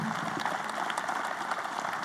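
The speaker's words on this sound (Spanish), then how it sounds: "un aplauso para nuestros expositores" A conference audience gives the panelists of an insurance convention session a brief round of applause, a dense patter of many hands clapping at moderate distance with no voices.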